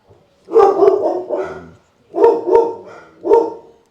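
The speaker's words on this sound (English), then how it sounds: "Dogs saw a new dog and had to bark." Several dogs bark loudly and close by in short bursts, two clusters of sharp woofs separated by a brief pause, reacting to a new dog.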